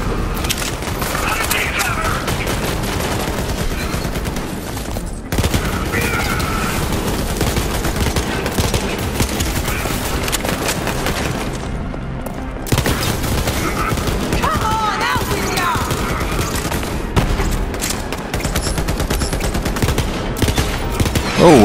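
Dense, continuous gunfire from enemies in Borderlands 3, with rapid automatic bursts and booming shots piling up almost without pause, a brief lull near the five-second mark, then the barrage resumes at full volume.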